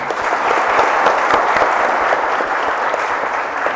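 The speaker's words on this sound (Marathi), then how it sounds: "तो आज या सगळ्यांसाठी आपण टाळ्या वाजवूया" An audience at the SuperX 2025 Java project competition claps for the team's mentors, a dense, steady round of applause filling the room without letup.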